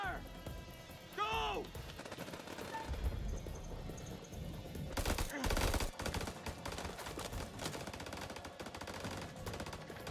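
Gunfire in the video game House of Ashes: bursts of rapid automatic shots and single gunshots, loud and dense, with voices talking during the firefight.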